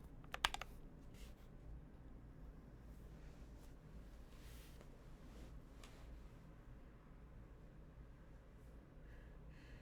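Quiet, steady typing on a Tofu 65 mechanical keyboard with lubed Boba U4T switches and an FR4 plate, heard at a distance, soft clicks running continuously after a couple of sharper clicks at the start.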